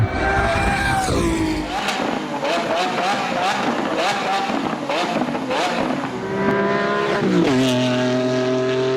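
A Ferrari V12 racing engine screams and climbs through the gears, its pitch rising and falling with each shift, loud and close with a constant roar.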